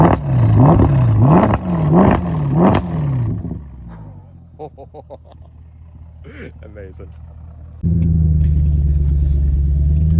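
A Mercedes-Benz ML63 AMG engine revs loudly three times in quick rising and falling bursts, then drops to a low idle with crackles before a strong, steady acceleration roar; someone speaks briefly.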